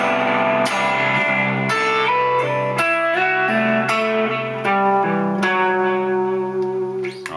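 A sustained low C drone holds beneath a lead melody of changing notes, the chord sounding full and steady with a slightly buzzy, effected tone throughout, played alone without voices.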